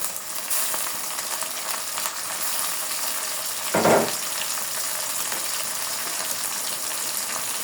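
Shrimp frying with onions in a pan, a steady loud sizzle throughout with a brief splashy burst as more goes in partway through; no voices.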